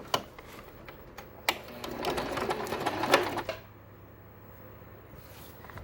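A sewing machine stitching patchwork fabric pieces together, a few sharp clicks and then a dense mechanical whirring burst of stitching lasting about two seconds before it falls to quiet room noise, with no voices.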